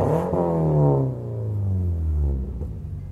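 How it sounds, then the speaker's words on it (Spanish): A car exhaust revs up to a deep throaty peak and then falls away, loud and close with a rumbling tail. "una pisadita tranquila para mostrar cómo suena el escape de este auto"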